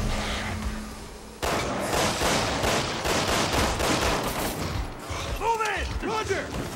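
Pistol gunfire in the video game Resident Evil 6. A dense run of sharp shots and mechanical clatter plays over game action, followed by a few creaking, ringing tones.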